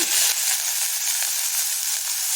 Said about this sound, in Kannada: ಸಾಸಿವೆ ಹಾಕಿದ್ದೀನಿ. ಅದು ಇವಾಗ ಚಿಟಗುಟ್ಟಿದೆ